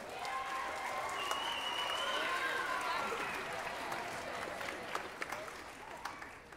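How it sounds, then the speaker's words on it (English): Audience applause at a 5th and 6th grade spring band concert, a steady wash of clapping sustained for several seconds and fading slightly toward the end, with faint voices and a few whoops mixed in. "So how about a nice round of applause for Mr. Fay?"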